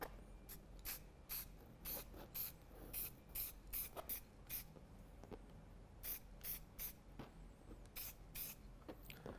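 Bursts of spray paint hissing onto paper in short, uneven pulses, each a quick airy spurt with brief gaps between, close by and fairly quiet, with no talking.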